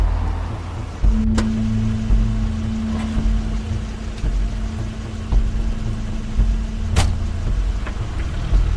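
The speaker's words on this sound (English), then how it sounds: "That's Crane's car." Crane's car pulling up in The Wolf Among Us, a steady engine hum starting about a second in and holding through, with a couple of sharp door-like clicks over an ambient background.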